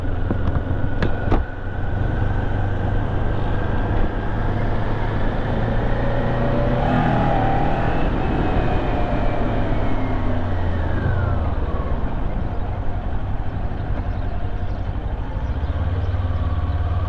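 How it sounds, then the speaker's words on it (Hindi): Kawasaki Ninja 400 motorcycle accelerating hard, a sustained engine roar that climbs in pitch through the gears with brief dips at shifts, loud and close throughout, with no talking. "गाड़ी क्या खींच लेती है यार।"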